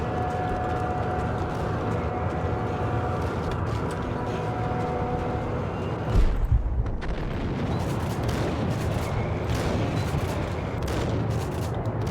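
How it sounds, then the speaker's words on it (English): A grenade explosion in the Max Payne video game, part of a dense, continuous roar of gunfire and blasts that stays loud throughout, with one sharper boom breaking through near the middle. "Fucker threw a grenade at me."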